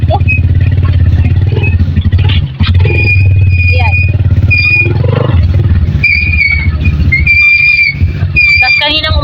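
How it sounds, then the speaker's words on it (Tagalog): A tricycle motor strains uphill over a rough, potholed road with heavy, steady low-pitched rumbling, rattling and squeaking throughout, while people talk over it. "Ang ingay ng tricycle."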